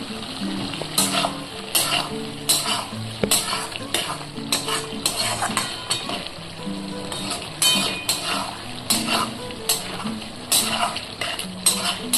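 A spice masala of ground coriander and other spices is sautéed in a pan, with a constant sizzle under repeated scraping and clattering of a spoon against the pan for a cauliflower dish.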